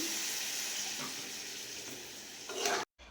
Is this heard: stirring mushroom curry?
yes